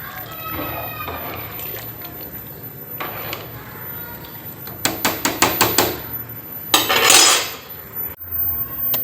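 Metal pot and utensils clank in a quick series, followed by a short splashing gush of water poured out, with a voice speaking briefly.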